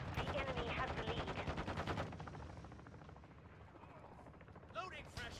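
Dense gunfire in Call of Duty Warzone 2, with overlapping automatic bursts and scattered shots, loud at first and then quieter, mixed with game radio voice callouts.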